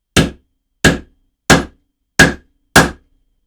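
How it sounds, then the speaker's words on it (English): Five sharp hammer strikes land at an even, unhurried pace as purple heart and brass fret markers are driven into a handmade guitar neck, each hit loud and close with silence between. "Trying to hammer these in"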